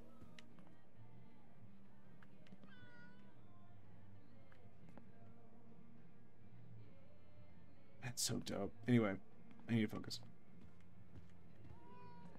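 A cat meows a few times in quick succession near the end, in the video game Life is Strange True Colors. A person talks over a steady game background before the meows.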